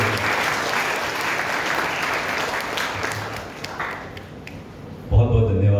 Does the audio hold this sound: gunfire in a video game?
no